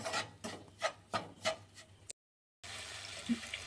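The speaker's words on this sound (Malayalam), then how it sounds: "കൊച്ചുള്ളിയും ഇഞ്ചിയും പൊടിച്ച് വെച്ചേക്കുന്നത് ഇതിനകത്ത് ചേർക്കാം. നല്ലോണം ഇളക്കാം." A spoon stirs ground shallots and ginger into a Kerala-style ginger curry, making about half a dozen rhythmic scraping strokes, then a brief silence before a softer, steady rustle.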